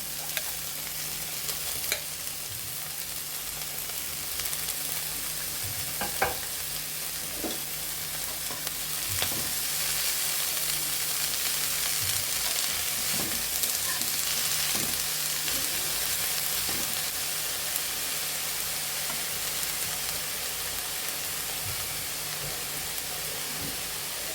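Bottle gourd leaves and coriander leaves sizzle steadily in a hot pan for a bandhakopi-style leaf bharta, with a continuous close frying hiss broken by scattered clicks and scrapes of stirring, no talking.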